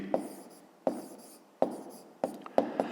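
Handwriting an answer to a grade-5 math exercise, a pen scratching in six short strokes, each a sharp scrape that fades, close and quiet with no talk.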